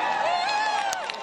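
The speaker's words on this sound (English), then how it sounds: "this is an example of a Ron Paul crowd that was there" A dense crowd cheers and shouts at a Ron Paul rally at UCLA, a continuous roar of many voices with whoops rising over it, steady and loud throughout a short burst.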